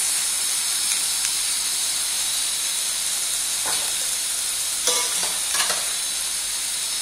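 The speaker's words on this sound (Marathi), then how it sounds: "नंतर हे दोन्ही आपल्या फोडणीबरोबर व्यवस्थित मिसळून घ्यायचं" Green beans and potato stir-fried in an oil tempering with turmeric hiss and sizzle steadily in the pan, with a few scraping stirs and clatters near the end.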